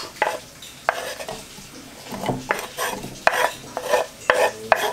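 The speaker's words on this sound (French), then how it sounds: "j'ai mis un petit peu d'huile d'olive, enfin dans une sauteuse, et on va y faire revenir l'oignon" Onion and chorizo in olive oil are being stirred in a sauté pan, a spoon clacking and scraping against the metal in irregular knocks over a soft, close sizzle.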